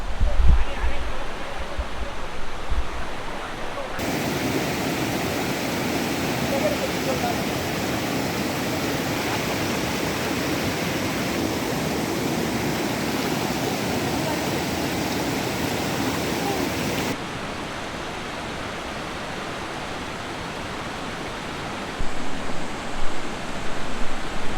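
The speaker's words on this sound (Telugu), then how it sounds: "మన వెనక సైడ్ అయితే ఉన్నది దుగర్వాడి వాటర్ఫాల్." Dugarwadi waterfall near Nashik roars as a steady, loud broadband rush of falling water, continuous and close, with a brief quieter stretch near the end.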